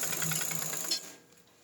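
A sewing machine runs steadily as stitches go along the straight side of fabric, a close continuous mechanical whir for about a second before trailing off into quieter room sound.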